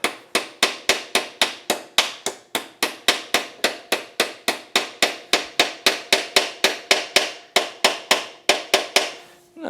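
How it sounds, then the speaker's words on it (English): A hammer taps a kickstart oil seal back into its bore on a motorcycle engine case, giving a long run of sharp, evenly spaced metallic knocks, roughly three per second, close and loud, with no voices. "we should be able to just tap it back in place"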